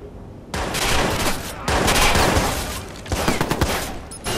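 Dense bursts of rapid gunfire in the Watch Dogs prison escape, loud and close, coming in three sustained volleys separated by brief pauses.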